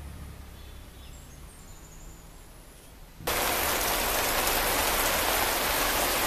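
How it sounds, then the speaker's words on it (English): Rain falling steadily, soft at first, then abruptly much louder and heavier as a dense downpour hiss takes over for the rest. "So it is raining out here."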